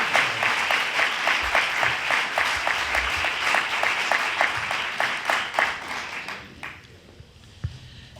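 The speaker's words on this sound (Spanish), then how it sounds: "Hagamos un aplauso, por favor, a don Juan José Benítez." Audience applause for a guest speaker at a talk in a town cultural centre, sustained rhythmic clapping from a room of people that thins out and fades toward the end.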